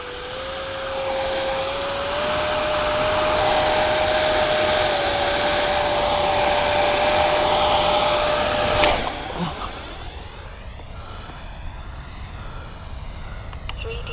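Small 50mm electric ducted-fan RC L-39 Albatros jet model running at nearly full throttle, a loud steady whine that holds for about nine seconds, then drops away and fades as the model flies off.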